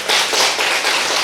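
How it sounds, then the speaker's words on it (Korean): Church congregation clapping together at a Sunday service, a dense, steady burst of many hands lasting about a second, loud and close with no talk over it. "박수 한번 보내겠습니다"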